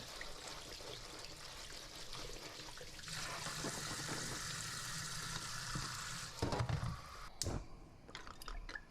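Small tomatoes being rinsed under running tap water, a steady splashing trickle with shifting intensity, louder in the middle, followed by a few sharp knocks and clatters near the end.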